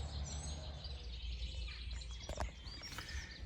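A thrush sings from a perch near a plant nursery, bright chirping phrases coming faint and distant over a low background rumble, with no voices.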